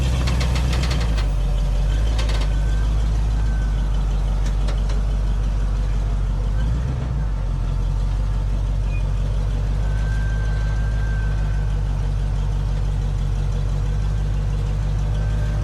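Off-road truck crawling a Colorado trail in four-wheel drive, its engine a loud, deep, continuous rumble with a knocking labor, revving briefly near the start and holding steady, with faint voices underneath.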